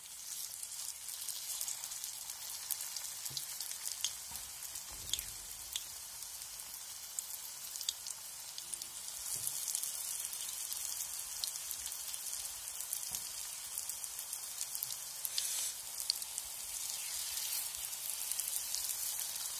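Pakori dough balls frying in a little oil in a pan, a soft continuous crackle and patter of bubbling oil, faint and even throughout with no voices.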